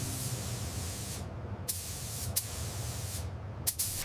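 Spray gun laying clear coat on a rusty 1970 Dodge Charger R/T under restoration in a paint booth, a steady close hiss running throughout with a few brief sharper bursts.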